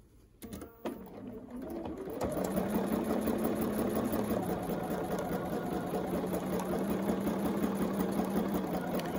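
A longarm quilting machine stitches steadily along a ruler template, a continuous mechanical whir that starts after a few brief clicks and then holds a loud, even hum with fine rapid ticking.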